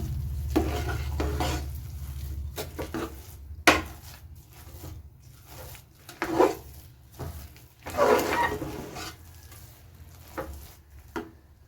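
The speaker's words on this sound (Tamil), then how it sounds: "இப்போ எல்லாம் சேர்த்து நல்லா மேஷ் பண்ணி விட்டுடலாம்." Cooked rice is mashed with salt for curd rice, making soft, irregular squelching and scraping strokes against a vessel, close and fairly quiet over a low background hum, with no voices.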